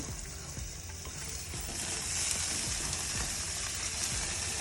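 Ripe plantain roasting on a barbecue grill for Jamaican-style ribs, giving a steady, close hiss and sizzle with faint crackles and pops throughout, growing slightly louder midway, with no talking.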